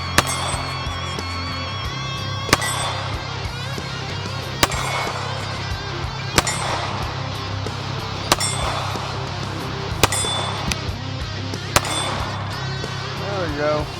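Rock Island 1911 .45 ACP pistol fired at targets outdoors: about eight sharp, loud shots spaced roughly every one to two seconds over a steady background rumble, with people talking throughout.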